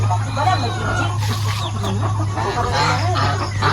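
Native chickens cluck repeatedly at close range on a chicken farm over a steady low hum, with scattered fowl calls overlapping throughout.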